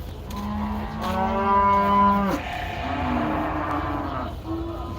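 A loud, drawn-out low bellow from a large pink water buffalo at Gabtali cattle market, followed by a second shorter, rising moo, close to the recorder.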